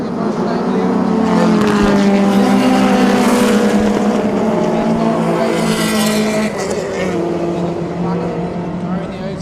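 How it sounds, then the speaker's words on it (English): Rallycross race cars at Mondello Park pour around the circuit as a bunched pack, a loud, dense roar of several engines swelling and fading as they pass, with a commentator talking over the noise. "There's a whole gaggle of cars coming around out of Castro down onto the street for the first time."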